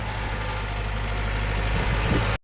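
A tractor stuck on a farm idles with a steady low rumble and vibration for a couple of seconds before its engine cuts off abruptly.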